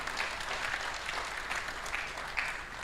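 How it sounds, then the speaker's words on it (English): Steady, fairly faint applause from an audience at a Ugandan aquaculture census report launch, an even wash of clapping lasting about three seconds with no talk. "Let's give them a round of applause."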